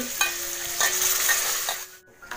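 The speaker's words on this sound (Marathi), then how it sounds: "आता आपण टाकूया दही." Yogurt goes into chicken cooking in a pan on a wood-fired stove, making a loud, close sizzle with stirring scrapes before it drops off sharply near the end.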